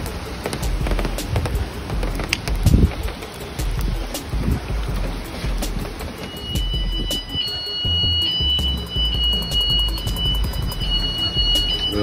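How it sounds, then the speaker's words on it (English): A motor scooter's alarm shrieks during Hurricane Ida. It is a repeating electronic chirping that grows into a sustained high whine, with wind and storm noise underneath. "I got to turn that alarm off. That's gonna waste my battery."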